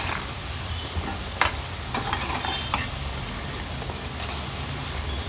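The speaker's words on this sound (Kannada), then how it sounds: "ಮಿಕ್ಸ್ ಮಾಡ್ತಾ ಫ್ರೈ ಮಾಡ್ಕೊಳ್ಬೇಕು. ಕ್ರಿಸ್ಪಿಯಾಗಿ ಫ್ರೈ ಮಾಡಿಕೊಂಡ್ರೆ ತುಂಬಾ ಚೆನ್ನಾಗಿರುತ್ತೆ" Kodubale rice-flour rings deep-frying in hot oil while being stirred, a steady crackling sizzle with occasional sharp spatters and scraping clinks, close and continuous without speech.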